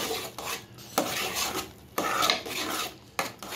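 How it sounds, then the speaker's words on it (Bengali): Carrot halwa is stirred with ghee in a pan, producing repeated rough scraping and rubbing strokes of a spoon against the pan in uneven bursts, close and fairly quiet. "ভালো করে নেড়ে হালুয়ার সাথে মিশিয়ে দেব।"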